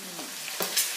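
Shrimp sizzle and hiss in a hot pan for green pesto pasta, a short continuous frying sound with a couple of faint stirring clicks.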